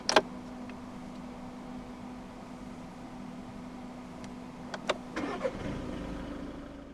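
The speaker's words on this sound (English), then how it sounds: "put your foot on the clutch, insert the key into the slot right here, and twist the key" A 2016 Škoda Superb Estate 1.6 TDI diesel engine cranks and catches near the end after a quiet steady hum, preceded by a few sharp clicks and a short electronic chime.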